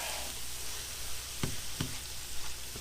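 Vegetables sizzle in a hot pan as a breakfast casserole is prepared, a steady broadband frying hiss punctuated by two or three soft clacks of a utensil stirring them around, close and with no talk.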